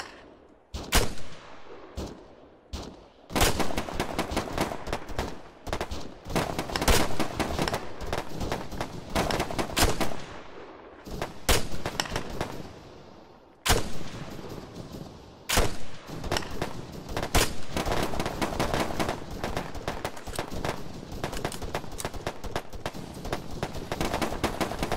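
Dense gunfire and combat in the ARMA 3 video game with the JSRS sound mod: rapid bursts of rifle and machine-gun fire with sharp, loud reports, a few isolated shots at first, then near-continuous firing with heavy booming cracks throughout.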